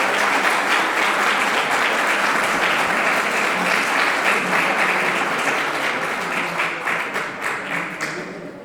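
Audience applause after a lecture on rye straw and esparto crafts, a dense, steady burst of many hands clapping that carries on for several seconds before thinning toward the end.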